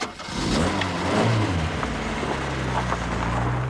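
A singed, fire-damaged Vauxhall Cavalier engine runs close by, a steady mid-pitched rumble that rises slightly as it revs and then holds even throughout.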